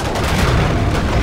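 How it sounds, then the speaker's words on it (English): A loud, broadband explosion blast in the shooter game Killing Floor 2 fills the moment, a dense rumbling boom with crackling debris and no clear pauses. "And explosion."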